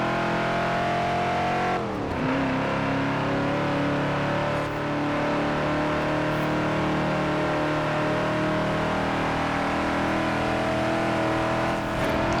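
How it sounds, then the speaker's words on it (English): A 1973 Ford XB Falcon GT in Forza Horizon 4 runs at a steady engine drone with a brief throttle dip and rise near the start, then holds a loud, continuous cruising tone. "I like the sound of the XB. I think it's very good."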